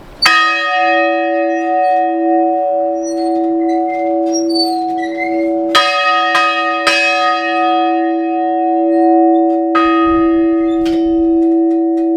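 A large church bell in a village bell tower museum in Yasenytsia-Zamkova rings out loud and close, several struck tones ringing on with long, humming decay and overlapping harmonics.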